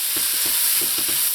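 Ginger and garlic sautéing in a pan, a steady bright sizzle with soft rhythmic stirring scrapes every fraction of a second, close and alone.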